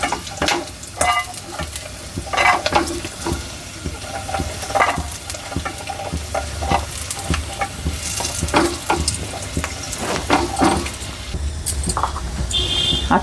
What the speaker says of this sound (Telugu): అదే నెయ్యిలో మంచిగా వేయించుకోవాలి మనం.